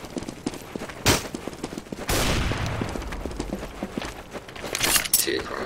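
Rapid bursts of gunfire from a Counter-Strike: Global Offensive match on the Dust2 map, with loud volleys and footsteps, while players talk over the action.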